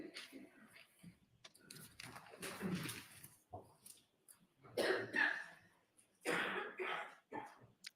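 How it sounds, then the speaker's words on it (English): Several people in a courtroom cough and clear their throats in scattered bursts, some near and loud, others quieter, with brief murmurs of speech between them. "these people are coughing to death"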